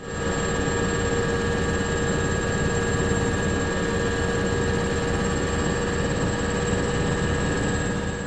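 A helicopter flying over earthquake rubble in Hatay gives a constant loud rotor and engine drone with steady tonal whine, unbroken for the whole stretch and no voices.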